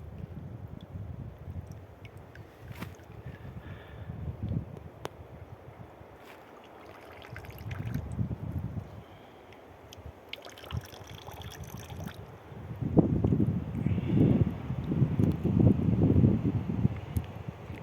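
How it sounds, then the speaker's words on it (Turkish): A gentle breeze blows among pine trees beside a field being plowed, a soft, rushing noise that swells and eases in gusts and grows strongest near the end, with no voices. "Çam ağaçları mis gibi. Efil efil esiyor."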